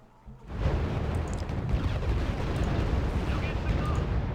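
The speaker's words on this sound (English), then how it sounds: "Artillery's coming in like crazy now." Artillery barrage in the real-time strategy game Wargame: Red Dragon, a dense continuous rumble of overlapping explosions that starts abruptly and stays loud throughout.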